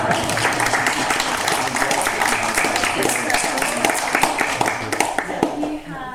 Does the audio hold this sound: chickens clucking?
no